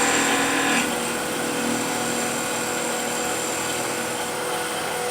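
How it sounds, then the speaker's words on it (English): Steady whirring hum of a wood lathe spinning as a chisel undercuts a ring on the turned piece, a continuous close drone with a faint scraping edge and no talk. "And now I'm undercutting the ring a little bit"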